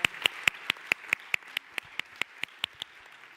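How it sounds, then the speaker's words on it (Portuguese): Clapping closes a plenary session at a science and innovation conference: a sparse, evenly paced series of about fifteen distinct claps, fairly quiet and steady, with no voices over it. "uma salva de palmas para vocês."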